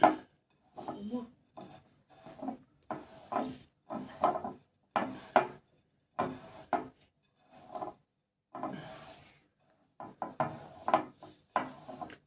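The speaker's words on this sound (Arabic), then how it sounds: "بصوا انا بفرك المكونات كلها ازاي" Dry rustling and rubbing as tamarind spice ingredients are worked together by hand, in repeated short bursts separated by brief pauses, close and fairly quiet.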